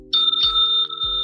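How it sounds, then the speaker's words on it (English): A bright bell-like ding sound effect plays from a Vivitar speaker: two quick struck chimes ringing close and clear, with no voices. "a ding"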